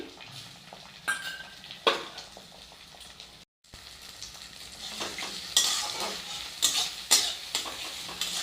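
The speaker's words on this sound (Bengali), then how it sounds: "ডিমটাকে ভালো করে ভেজে নেব ডিমটাকে ভুজিয়া করে নিচ্ছি" Egg frying and being scrambled in oil in a pan for Bengali fried rice, with a steady sizzle cut through by repeated scraping and stirring strokes and one brief silent gap midway; no speech.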